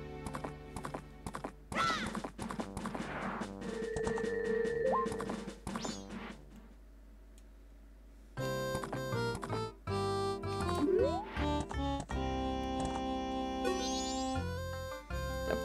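Horse hooves clip-clop in a rhythmic gallop during a horse race in the video game The Legend of Zelda: Majora's Mask, with a whinny, all under loud, continuous game music.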